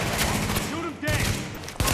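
Gunfire in the video game Tom Clancy's The Division, loud sustained bursts of automatic shots layered with game effects and background music, briefly cutting out before resuming.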